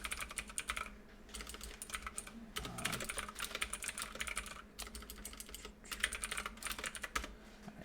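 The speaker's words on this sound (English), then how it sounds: "So that's my mechanical keyboard, by the way." Rapid, continuous clacking of keys on a mechanical computer keyboard, close and fairly loud, with brief pauses between bursts of typing and no talking.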